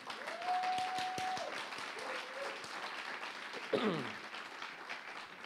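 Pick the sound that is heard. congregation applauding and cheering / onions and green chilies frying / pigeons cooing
congregation applauding and cheering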